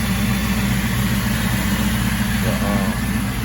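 An LS V8 engine idles steadily with a constant low rumble, close by and continuous with no voices.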